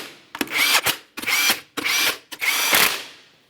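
A power tool drives 19mm lug nuts onto a Jeep Patriot wheel in four loud, close whirring bursts, each one rising as the nut tightens, with brief pauses between them.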